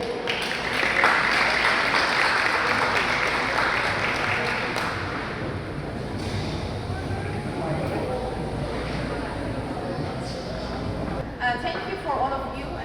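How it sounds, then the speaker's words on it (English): Audience applause for the host at an Ethiopian community center event in Atlanta, a steady wash of clapping from a seated crowd with voices and room noise mixed in, fading slightly after the first few seconds. "So please, a round of applause for Miss Mimi Teshome."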